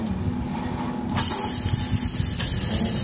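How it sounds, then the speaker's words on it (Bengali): Ash gourd pieces tipped into hot mustard oil with bay leaf and chilli tempering, setting off a sudden loud, steady spray-like sizzle that starts partway in and keeps hissing close by. "সেটা গরম হয়ে গেলে ভালো করে ভেজে নিয়ে তার মধ্যে ছাঁচি কুমড়োটা দিয়ে দেবো"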